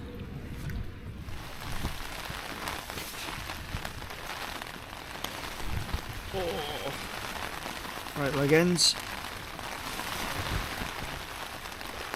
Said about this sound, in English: As you can hear, the rain is coming down now.